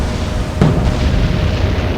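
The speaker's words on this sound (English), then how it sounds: "15-inch shells can really wreak havoc on one of these Deutschland class heavy cruiser / pocket battleships" Heavy 15-inch naval shells from a battleship slam into a German Deutschland-class heavy cruiser in a naval combat game, with one deep boom bursting out of a steady low rumble of battle noise.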